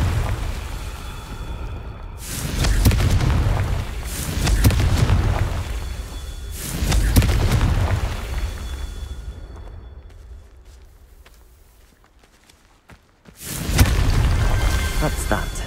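Confringo fire spell explosions in Hogwarts Legacy, heavy rumbling booms that swell and fade in repeated waves, loud and close, with a few sharp cracks between blasts and a final burst after a brief lull.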